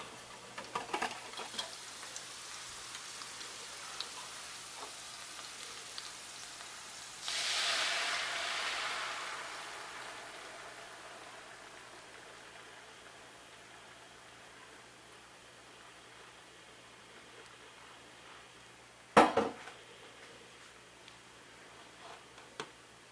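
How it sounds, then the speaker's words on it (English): Six eggs are whisked in a bowl, the utensil ticking in a quiet, rapid rhythm against the sides, with a brief hiss partway through and a sharp clatter near the end. "There's like 6 eggs in here, so you got to whisk it really well"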